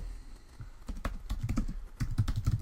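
Fingers type a message on a computer keyboard, giving irregular bursts of close, crisp key clicks that speed up and grow louder toward the end, with no one speaking.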